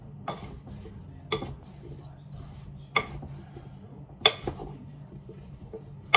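Sliced apples and cinnamon are stirred in a bowl, with a few sharp clinks of utensil on the bowl every second or so over soft shuffling, close and fairly quiet.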